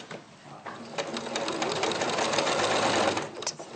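A sewing machine stitching fabric, a rapid steady rattle of the needle that starts, runs close and loud for a few seconds, then eases off, with no talk over it.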